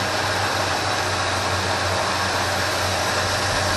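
A Ford F350 engine runs steadily with a freshly rebuilt carburetor, a continuous close, even idle rumble with a low throbbing hum, with no talk over it.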